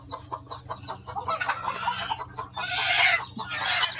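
Hens on a poultry farm near an egg incubator, clucking and calling in a steady, close chorus, with louder squawks building toward the end and no talk over them.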